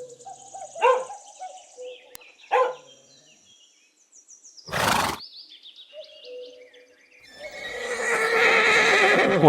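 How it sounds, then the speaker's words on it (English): A horse whinnies in a couple of short bursts, then gives a loud snort. A longer, shaky neigh follows, close and clear, with faint hoof clatter under it. "horse,"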